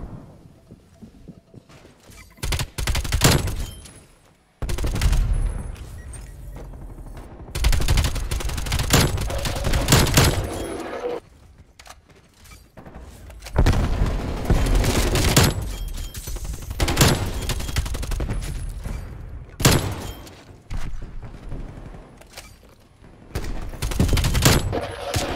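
AK-74U gunfire in Call of Duty: Black Ops Cold War, loud bursts of rapid automatic shots repeating across the stretch with brief pauses between volleys, close and dominant with little else audible.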